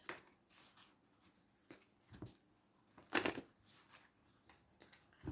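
A Wicca tarot card deck is shuffled by hand, producing faint, soft riffling and papery slaps in quick, irregular bursts, with one louder flurry of cards partway through.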